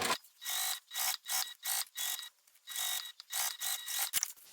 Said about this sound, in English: now I'm just going to top stitch